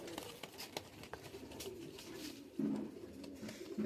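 Male Pakistani teddy pigeons coo in a close, steady run of low throaty calls, with a louder burst of cooing near the end; no speech is heard.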